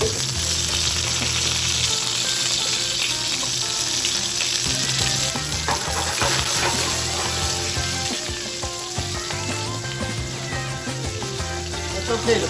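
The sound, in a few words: tomato pizza sauce simmering and sizzling in hot pan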